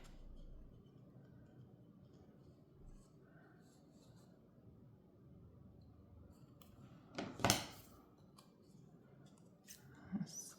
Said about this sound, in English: Let's cut along that line.